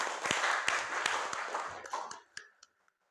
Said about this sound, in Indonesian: Oke, silakan kembali kasih tepuk tangan untuk kelompok 1.